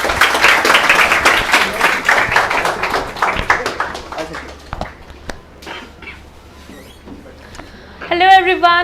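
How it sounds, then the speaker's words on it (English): Audience applause welcoming a speaker at an ACCA seminar: dense clapping fills the first few seconds, then thins to scattered claps before fading out, with a brief tonal sound near the end. "embrace her with a warm warmth of claps"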